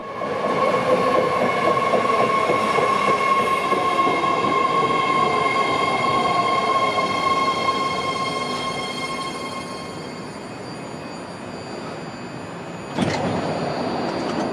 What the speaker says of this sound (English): Our first train of the trip is this Orange Line BART train, pulling up northbound destined for Richmond